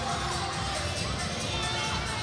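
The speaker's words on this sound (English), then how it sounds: "this is Staten Island High School League Varsity Championship game crowd" A crowd at a Staten Island high school girls' varsity basketball championship game, a steady dense roar of cheering and shouting voices filling the gym without letup.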